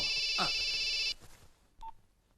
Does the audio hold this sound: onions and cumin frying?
no